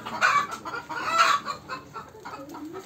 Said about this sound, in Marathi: अंडे देण्यासाठी आलेल्या आहेत कोंबड्या काही बऱ्याच.